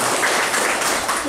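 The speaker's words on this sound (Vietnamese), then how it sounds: "xin mời anh Lâm cho một tràng pháo tay đi" Brief burst of dense crowd applause at a Catholic priest's gathering, loud and continuous for just over a second.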